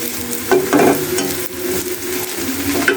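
Bengali five-spice mix sizzles loudly in hot oil with fried onion and garlic while a fig fry dish is cooked, with continuous close frying crackle and occasional stirring scrapes.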